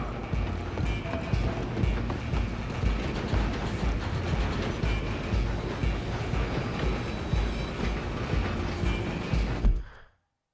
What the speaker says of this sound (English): I'm gonna ride ahead and stop the train.